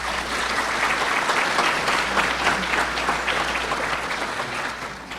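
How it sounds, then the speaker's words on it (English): A banquet crowd at the Suffolk Peanut Festival Queen's Banquet claps steadily, a broad continuous wash of applause from many hands filling the room for several seconds. "Please give him a round of applause."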